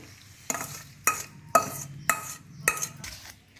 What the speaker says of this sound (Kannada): ಈಗ ರೆಡಿ ಮಾಡಿಟ್ಕೊಂಡಿರುವಂತಹ ಒಗ್ಗರಣೆಯನ್ನು ಹಾಕ್ಕೋತಾ ಇದ್ದೀವಿ